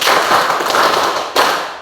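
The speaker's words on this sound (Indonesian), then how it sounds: "Tepuk 5." Schoolchildren clap in unison during a classroom clapping routine, a dense run of loud, near claps that breaks off briefly and then resumes, with no voices over it.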